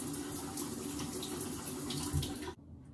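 Running tap water splashes into a bathroom sink during a morning face wash, a steady soft gush that stops abruptly near the end, leaving quiet.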